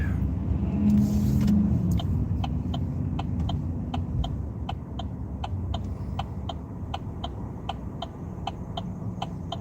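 Big truck driving through a red light, a low engine rumble passing close and loud at first then steadying, under a fast, regular ticking of a turn signal or crossing beeper.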